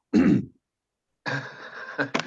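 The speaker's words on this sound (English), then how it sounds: "While you're getting over your coughing bit" A short throaty cough, then a pause, followed by a longer rough bout of coughing and throat clearing, close and fairly loud.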